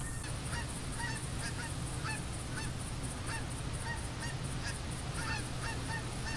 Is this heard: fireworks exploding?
no